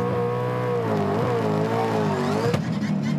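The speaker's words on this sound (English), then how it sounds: "Oh, no, just turned itself off. Full cut out." A loud Supercars race car engine drones at a steady high pitch during a race's first lap, wavering slightly, then abruptly cuts off with a sharp drop and sputter near the end as the engine fully cuts out.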